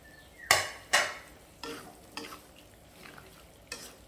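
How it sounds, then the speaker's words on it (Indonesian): Black pepper beef with onion and bell pepper is stirred in a pan, with a few sharp utensil scrapes and clacks against the metal over a faint sizzle, spaced irregularly and close. "Kacau sekejap je, tak payah lama."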